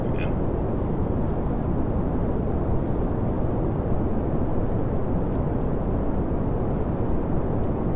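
Solid rocket boosters fire in Kerbal Space Program, a loud, constant low roaring rumble that holds steady without a break throughout.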